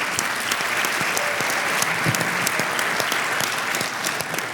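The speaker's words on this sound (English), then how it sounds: "I share your applause" Steady applause from a summit audience fills the room, dense clapping sustained evenly throughout at moderate loudness with no voices over it.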